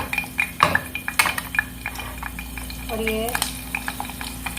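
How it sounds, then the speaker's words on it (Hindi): Dried red chilies dropped into hot ghee in a cooking pot, with scraping and stirring taps from a spoon and clinks against the metal, over a low sizzle. A brief voice speaks near the start. "हमने घी डाल दिया इसमें। अब हम डालेंगे इसमें ये लाल मिर्च।"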